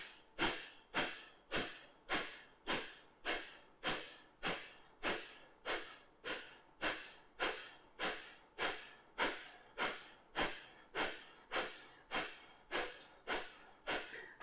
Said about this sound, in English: Half breath in. And 30 sharp exhales.